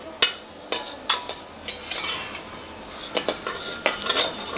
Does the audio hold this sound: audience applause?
no